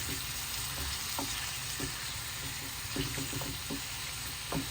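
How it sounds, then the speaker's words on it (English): Lamb pieces for charsi karahi frying in oil, a dense, constant sizzle filling the pan, with soft intermittent knocks and scrapes as the meat is stirred. "I'm going to cook this so it gets evenly fried in the oil for the next step."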